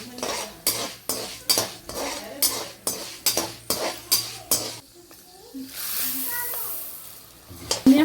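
Fenugreek seeds and black pepper fried in a little oil in a hot pan for temple-style puliyogare gojju, stirred with a utensil in a steady run of about a dozen close scraping clinks, then a lighter sizzle with a few soft knocks.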